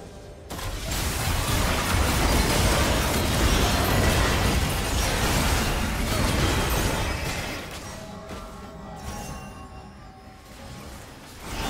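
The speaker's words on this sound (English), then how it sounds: "Red team's turret has been destroyed." Loud, sustained crashing and explosive rumble as a turret is destroyed in League of Legends, a broad burst lasting several seconds before easing into a quieter tail.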